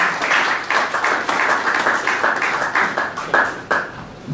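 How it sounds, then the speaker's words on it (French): A church congregation applauds in steady, rhythmic unison, the claps pulsing evenly and filling the room for several seconds. "Acclamez pour Jésus."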